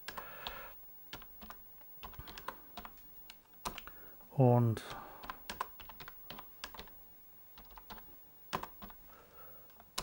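Keys clatter on a computer keyboard as input is typed into a Commodore 64 emulator, irregular close clicks in short bursts, with someone speaking briefly between them.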